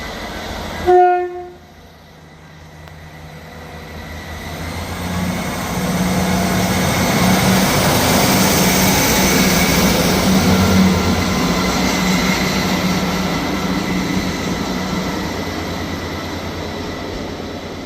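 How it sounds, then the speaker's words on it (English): A ScotRail passenger train pulls out of Edinburgh Gateway station, opening with a short horn blast, then a steady, loud rumble of wheels and traction building and holding as it moves off. "Departing out now is the 11:29 ScotRail service from Edinburgh Waverley to Leven."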